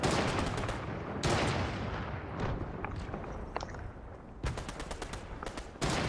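Gunfire in Fortnite, with sharp bursts of rapid shots at the start and near the end and scattered, fainter single cracks between them, all loud and close.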